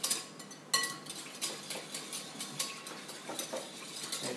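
Spoon stirring a mixture of soy sauce, cooking sherry, ginger and garlic in a bowl, quiet repeated clinks and scrapes in a steady loose rhythm, close and alone.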